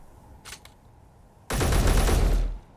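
Gunfire from a modded combat system in the video game Space Engineers: after faint ticking, a sudden loud, sustained burst of rapid automatic shots lasts about a second before cutting off.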